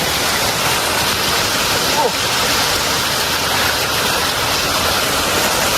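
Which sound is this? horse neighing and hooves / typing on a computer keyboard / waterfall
waterfall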